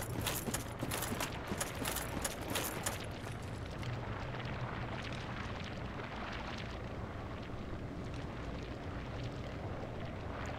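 A chaos fire effect in Dark Souls Remastered gives a steady, low, roaring rumble with rapid crackling bursts in the first few seconds, fairly quiet and continuous throughout.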